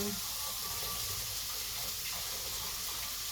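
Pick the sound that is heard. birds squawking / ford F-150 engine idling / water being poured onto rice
water being poured onto rice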